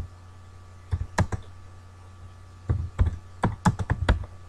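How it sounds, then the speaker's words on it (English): Keys clack on a computer keyboard while a Word document is typed, in two irregular bursts of close, crisp keystrokes separated by a pause, with no talking. "I'm going to start typing the document."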